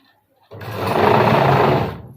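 Sewing machine running steadily while stitching the hem of a blouse lining, a continuous close, loud mechanical whir that starts abruptly after a brief quiet and holds for nearly two seconds.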